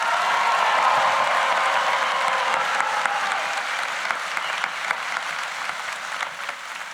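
Audience applause at a university graduation convocation ceremony, a dense sustained wash of many hands clapping in a large hall that gradually thins and fades toward the end.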